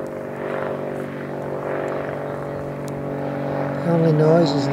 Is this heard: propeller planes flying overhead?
yes